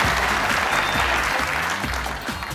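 A studio audience claps warmly for contestants on an Afghan Family Feud-style game show; dense, steady applause fills the short stretch without speech.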